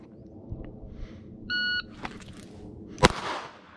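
A Ruger LCR .22 revolver outdoors: a short electronic shot-timer beep sounds, then after a brief pause a single sharp gunshot cracks loudly, with faint clicks and handling noise around it.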